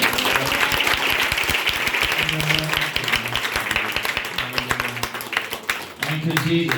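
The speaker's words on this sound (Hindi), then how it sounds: "ताली मार के प्रभु।" A church congregation claps along during a Hindi testimony service, with brisk, continuous clapping from many people mixed with voices and sustained tones, pausing briefly before resuming.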